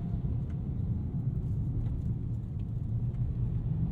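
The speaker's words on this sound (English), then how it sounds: "The EcoBoost motor" A Ford Maverick Tremor pickup with an EcoBoost engine is driven over small bumps and ruts. It gives a low, steady engine and road rumble heard from inside the cabin, with soft thumps from the surface.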